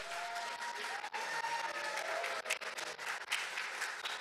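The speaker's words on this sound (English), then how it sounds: "Ladies and gentlemen, round of applause for our performers here tonight." Steady applause from an audience at a Peruvian Andean folk dance show, a dense wash of many hands clapping that holds for several seconds at moderate distance, with no talk.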